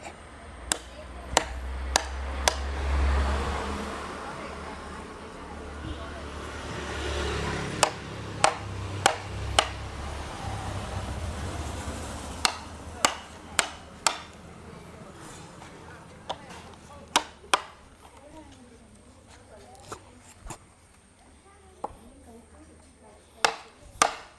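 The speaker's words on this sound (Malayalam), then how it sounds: "അങ്ങനെ അച്ഛത് കീറാൻ പോവാ കേട്ടോ" Areca palm wood being split by hand to shape a tool handle, with repeated sharp chopping strikes at an irregular rhythm, close and fairly loud, over a steady background and some voices.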